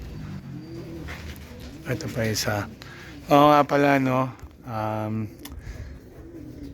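Pigeons coo in short repeated calls close by, heard between and under stretches of conversational talk.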